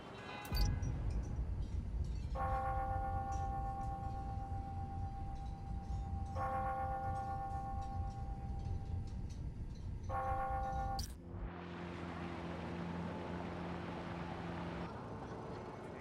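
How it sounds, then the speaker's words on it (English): Bells ringing on the hour in the Spider-Man: Miles Morales video game, a series of sustained bell tones in separate bursts over low city rumble, followed by a fainter, lower chime. "Ringing on the hour."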